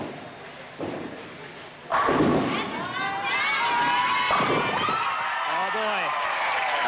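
Crowd at a bowling match cheering and shouting after a strike, a sudden loud burst of voices with some thuds and whistles, holding steady as the roar continues around nearby chatter.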